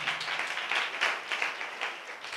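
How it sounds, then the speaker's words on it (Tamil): Church congregation clapping hands in thanks during a Tamil worship service, a fairly quiet, continuous patter of many hands with uneven bursts heard from a moderate distance, no speech over it. "நல்ல கைத்தட்டி ஆண்டவருக்கு நன்றி நன்றி நன்றி நன்றி நன்றி"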